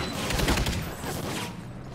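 Gunfire during a firefight in the video game Call of Duty: Ghosts, a dense rattling volley of shots, somewhat distant and muffled, fading after about a second and a half.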